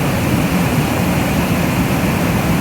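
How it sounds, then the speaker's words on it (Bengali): Water roaring at Bhatinda waterfall near Dhanbad, where river water pours over rocks, a loud steady broadband rush with no breaks and no voices. "জলের আওয়াজটা শুনবে"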